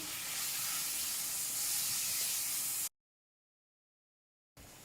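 Ground beef for lasagne browns in a pan with a loud, constant hiss for about three seconds, cuts abruptly to silence, then briefly resumes at the end.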